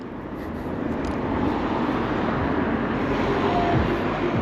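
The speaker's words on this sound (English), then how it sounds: "the drone is going over" A drone passes overhead near a VW dealership as police attend, a broad whooshing engine noise that swells gradually and holds steady, moderately loud with no talk.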